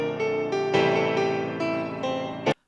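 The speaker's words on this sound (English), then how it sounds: "put a piano sound from Nexus over it called Clara" A sampled piano patch called Clara from the Nexus synth plays a chord progression, several sustained chords struck in succession, moderately quiet, ending with a brief final accent before silence.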